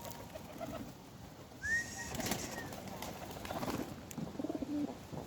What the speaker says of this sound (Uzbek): Mana kaptarlar akalar.